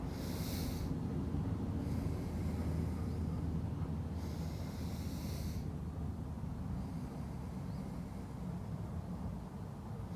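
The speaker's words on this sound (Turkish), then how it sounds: "Tekrar yine burnumdan alıyorum." Steady nasal inhalation during a yoga breathing exercise, a continuous soft airy rush lasting several seconds, with faint brief hissy swells near the start and middle, close and quiet.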